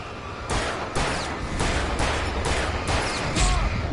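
Loud gunshots ring out about every half second in the video game Alan Wake Remastered, a steady series of sharp blasts over a constant noisy game backdrop.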